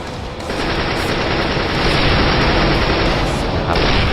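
Rapid, loud gunfire from a Counter-Strike: Global Offensive match, sniper rifle and Desert Eagle shots blending into a dense, continuous barrage with no clear gaps between reports.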